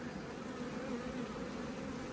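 Honey bees hum at an open hive during a nectar flow, a faint, steady, dense buzz of many insects throughout.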